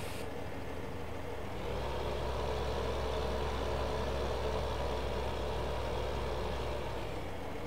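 A tractor hauling a trailer in the Farming Simulator video game, its engine a steady, loud, low drone that keeps a constant rumble throughout with no talking over it.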